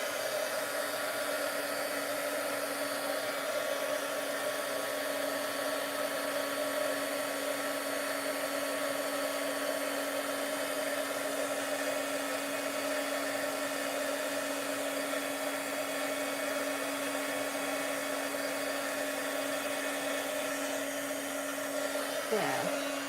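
Heat embossing tool blowing hot air over card, a steady loud whirring blower hiss with a constant hum that runs unbroken and evenly for over twenty seconds, with no talking.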